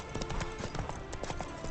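Hooves of the horse Roach galloping in The Witcher 3 video game, a steady rapid clip-clop rhythm running close and loud through the whole short stretch, with no one talking over it.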